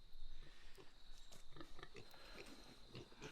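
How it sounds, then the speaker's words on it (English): Baby pigs in a farm pen give soft, scattered grunts and short chewing or snuffling noises, fairly quiet against a steady high background hum. "These little baby pigs back here"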